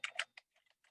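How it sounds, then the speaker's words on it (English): A brief burst of computer keyboard typing: two close, fairly loud key clacks followed by a few fainter taps, heard alone in a quiet room. "And then type in whatever you want here."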